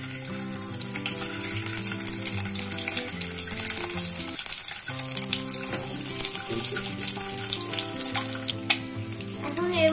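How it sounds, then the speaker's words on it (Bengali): Five eggs frying lightly in hot oil for an egg korma give off a steady, close sizzle that runs the whole time beneath background music. "তেলটা গরম হয়ে গেছে, এখন আমি ডিম 5টিকে হালকা একটু ভেজে নিব।"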